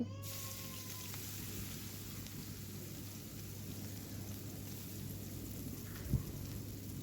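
Prawns fry in mustard oil in a wok with a faint, steady sizzling hiss, quiet and even, broken by one small clatter near the end.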